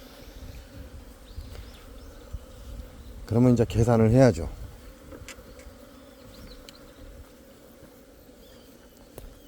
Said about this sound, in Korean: 엄청난 양의 서양종 꿀벌이 도봉을 들어왔습니다.